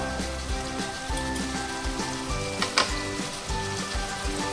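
A handful of curry leaves hit hot oil in a pan for a soybean curry and sizzle loudly and steadily, with crackling spurts, a faint hum and brief stirring clatter underneath.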